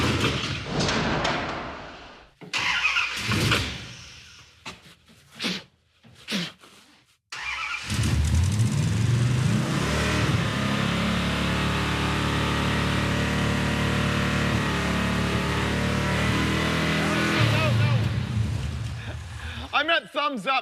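Dodge Dart with a 440 engine fires up and revs hard, a loud, sustained exhaust roar with audible exhaust leaks after a few short bursts, with people talking at the start.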